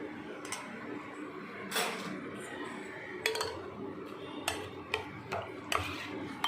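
A spoon stirs falooda with milk in a glass, giving a string of close, light clinks and taps against the glass in an irregular rhythm, with faint background noise between strikes.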